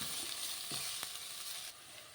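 Ridge gourd fries in hot oil, giving a bright, steady hiss of sizzling with a couple of faint spatula taps, close and fairly quiet, with no voices.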